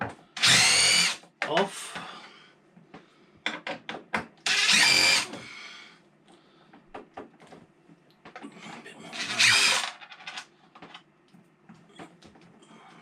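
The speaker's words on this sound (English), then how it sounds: "So an M10 driver will just whiz these" Power driver fitted with an M10 socket spinning out bolts from a Jabsco water pump, three loud high whirring bursts each about a second long, separated by clanks and handling noises, with brief talking in between.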